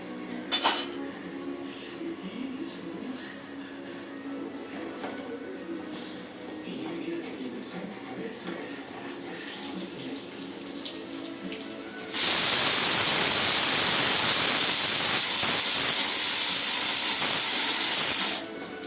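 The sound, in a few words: potatoes frying and stirred in pan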